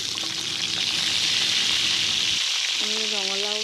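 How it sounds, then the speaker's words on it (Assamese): Fish sizzles and fries steadily in a hot pan, a loud continuous crackle of oil, with a faint voice briefly heard near the end. "প্ৰথমে আমি মাছখিনি ফ্ৰাই কৰি লওঁ।"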